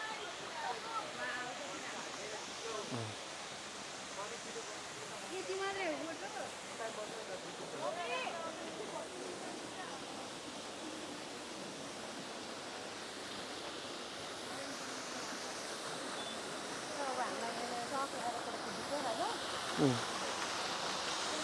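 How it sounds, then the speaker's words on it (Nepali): A water fountain in Chaughada, Nepal splashes in a constant, full rush of falling water, with faint voices murmuring in the background. "दामी पानी उठिरहेको छ यहाँ"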